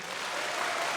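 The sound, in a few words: concert audience applause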